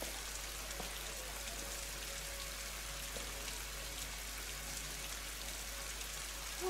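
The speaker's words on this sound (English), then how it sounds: "Why are we in the rain?" Steady, dense rain falls in the video game Rise of the Tomb Raider, a continuous even hiss of drops with a faint low tone underneath and no voices.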